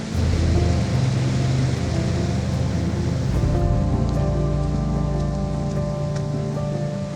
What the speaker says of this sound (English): the rain's getting heavier by the minute.